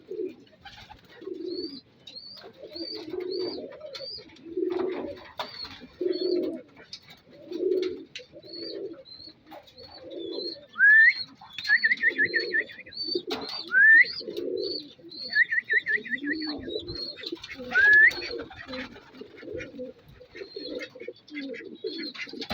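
Young racing pigeons coo at their loft in steady repeated low phrases, with a few brief higher chirps and whistles mixed in, fairly close and moderately loud, no speech.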